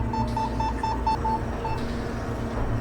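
An EMF meter beeps in a steady train of short, evenly spaced tones near an electrical outlet in the corner of a room at Bobby Mackey's Music World, heard over a constant low background hum.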